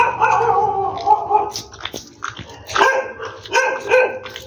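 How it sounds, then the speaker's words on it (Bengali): Several dogs bark and yelp repeatedly at night on an empty street near an auto-rickshaw, in bursts of loud, close barks overlapping one another. "দেখো কুকুরগুলো সব ডাকছে।"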